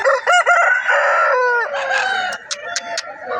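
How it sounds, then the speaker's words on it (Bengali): A rooster at a Balarampur weekly village market crows loudly close by, a drawn-out call followed by a few short clucks and squawks. "এখানে একটা দারুণ মুরগা দেখতে পেয়েছি, দেখুন।"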